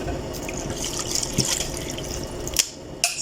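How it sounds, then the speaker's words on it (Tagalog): Water poured into a cooking pot holding potatoes and garlic for garlic mashed potato, a steady close liquid splash and trickle with a few sharper drips near the end, no talking. "lagyan natin siya ng tubig"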